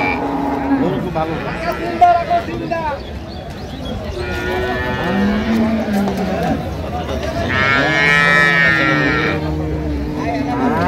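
Dairy cows and calves mooing in long, drawn-out lows amid a crowd of people talking nearby at a cattle market in Dinajpur.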